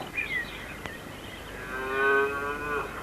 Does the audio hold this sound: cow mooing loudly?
yes